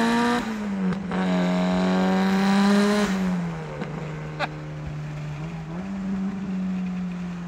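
A 500 hp Mitsubishi Evo 9 engine holds steady at half throttle, its exhaust giving a loud, smooth drone that swells briefly and then settles back to an even, slightly lower tone, with no talk over it.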